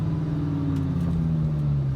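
A Lamborghini Gallardo with a tuned transmission pulls hard in first gear, its loud, steady engine drone filling the cabin with a deep rumble that holds unbroken throughout.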